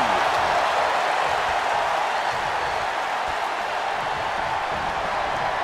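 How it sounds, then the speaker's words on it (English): Loud WWE 2K23 arena crowd noise during a Sheamus vs. Batista match, a steady dense roar of cheering and applause that holds throughout. "when you can't hear yourself think because the crowd's so loud"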